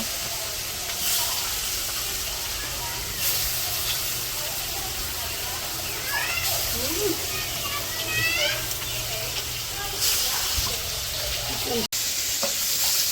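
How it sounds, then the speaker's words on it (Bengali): Pangas fish frying in hot oil at a village cooking fire, a steady broadband sizzle and hiss running throughout with occasional stirring clatter, while birdsong chirps and faint voices sound in the background. "তেল গরম হয়ে গেছে আর মাছগুলো ভেজে নেব"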